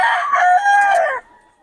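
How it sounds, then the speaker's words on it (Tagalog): A rooster crows once, loud and close, a long drawn-out call that cuts off sharply, followed by a brief faint cluck. "Maganda ng manok niya ni Boss Ben."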